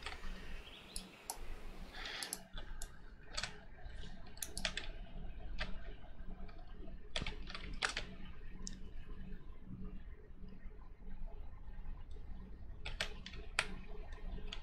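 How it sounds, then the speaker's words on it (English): Rapid keystrokes on a computer keyboard clatter in irregular bursts and single taps, close and fairly crisp, over a steady low hum for the whole stretch. "Sorry, I was typing."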